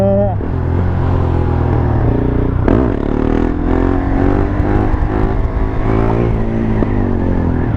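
A 2017 KTM Duke R 690 single-cylinder motorcycle engine revs loudly nearby, with a sharp throttle blip partway through over a steady thumping idle.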